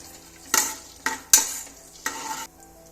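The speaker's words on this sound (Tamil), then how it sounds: "இப்போ அதை நம்ம போட்டுக்கலாம். எண்ணெய்க்குள்ள போட்டு வதக்கிக்குவோம்." Whole cardamom, mace, star anise and cloves drop into hot oil for a chicken dum biryani, giving four sharp sizzling bursts that each fade to a low crackle, close and fairly loud, with no voices.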